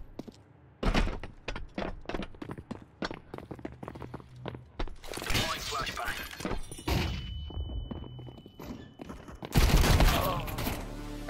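Rapid rounds of gunfire from Counter-Strike 2 Wingman fill the scene, crisp bursts and single shots coming close together, with heavy volleys around the middle and the end and some talking mixed in.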